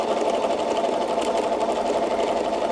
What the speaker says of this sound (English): So you can see by teaching yourself all of these straight lines how you can stitch all the way around a quilt and you don't have to turn the quilt.